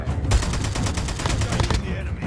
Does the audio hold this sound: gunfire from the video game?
yes